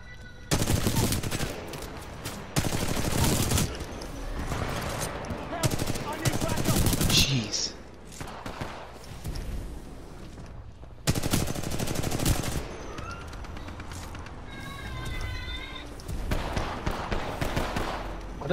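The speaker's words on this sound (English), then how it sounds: "It's a machine gun or LMG." Bursts of rapid light machine gun fire from a Spitfire LMG in a shooter video game, loud sustained rattling volleys in several long strings separated by brief gaps, with game effects and other shots between bursts.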